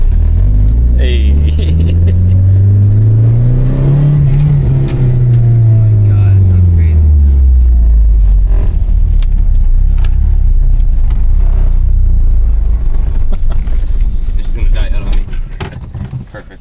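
Mitsubishi Eclipse GSX engine revving hard on its first drive, a loud, close rising and falling engine note that builds, peaks and winds down, with cabin noise throughout.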